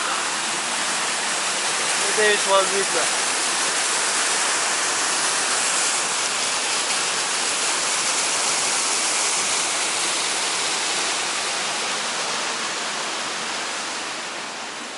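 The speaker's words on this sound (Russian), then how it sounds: "Вот сейчас мы находимся над тем местом, где выходит река. То есть выходит поток." A river gushes out at its source at a recreation site in Benoy, Chechnya, a loud, steady broadband roar of rushing water close by, with a brief voice speaking over it.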